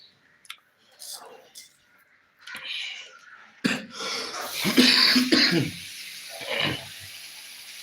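A person coughing several times up close in a home kitchen while fried rice and chicken are being cooked, the harsh bursts clustered together with faint clicks and clatter around them.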